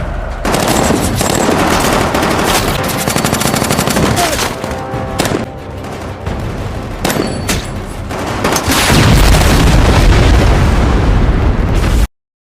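A war film battle: rapid machine-gun bursts and gunshots, then a heavy rocket explosion with a long rumbling roar, all very loud and dense throughout.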